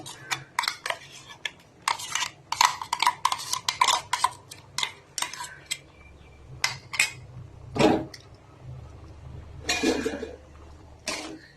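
A spoon stirs coconut paste into a lentil and plantain curry in a pot, with quick clinks and scrapes against the metal coming in uneven bursts, close by, over a faint low background hum.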